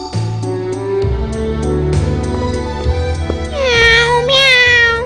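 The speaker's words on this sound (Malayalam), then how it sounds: "പൂച്ചക്കുഞ്ഞിനെ കാണാൻ നല്ല രസമുണ്ട്." A cartoon kitten meows repeatedly in high, bright cries over a busy animated soundtrack with music, rising to louder, stretched meows near the end.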